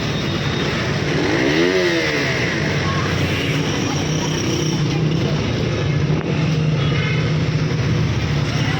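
A KTM Duke 125 motorcycle engine runs steadily nearby with a continuous low drone and a brief rising-falling rev early on, joined by background voices and street noise.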